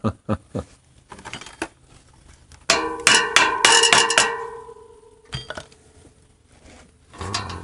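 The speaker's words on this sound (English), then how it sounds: "Now what I'm doing right now, I think, is moving the spacer slightly." Metal wheel bearing spacer shifted on a Harley wheel hub, giving sharp metallic clinks and knocks: a few isolated taps, then a dense ringing cluster of strikes, followed by scattered quieter knocks.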